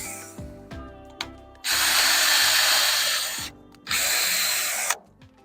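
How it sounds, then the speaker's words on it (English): A power drill whirs loudly in two bursts while pre-drilling holes in wood, the first long and steady, the second shorter, with quiet music underneath between them. "pre-drill some holes here"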